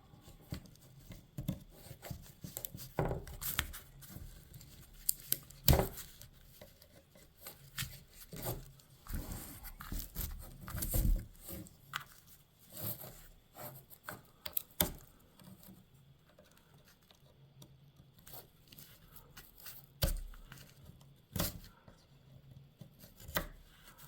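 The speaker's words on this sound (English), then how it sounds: "So widen my nock here with the knife." A knife blade scrapes and chips repeatedly at the nock end of an oak dowel arrow, irregular close-up cutting and scraping strokes with scattered louder clicks.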